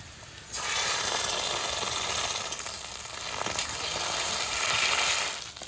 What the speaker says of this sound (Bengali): এবার এই মশলাটা দিয়ে দেবো তেলে